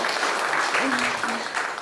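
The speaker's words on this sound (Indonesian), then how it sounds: "Kita tepuk tangannya sekali lagi Bapak Ibu" Audience applause at an Indonesian youth event, a steady wash of clapping from a crowd filling the whole moment, with a faint voice briefly audible beneath it.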